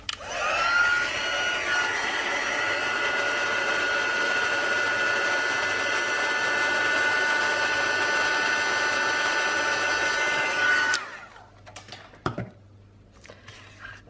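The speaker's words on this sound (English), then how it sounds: "I'm going to heat set that till that melts" Heat gun melting silver embossing powder on a card, a steady close blowing whir lasting about eleven seconds before switching off, followed by a couple of faint clicks.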